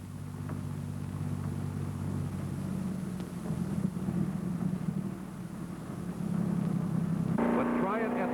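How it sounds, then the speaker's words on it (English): Roger Penske's lightweight Corvette Stingray racing at speed on the Road America circuit at Elkhart Lake, Wisconsin, during the 1964 Road America 500. The engine gives a loud, steady drone that rises and sharpens near the end. "But try it at speed in Roger Penske's lightweight Stingray."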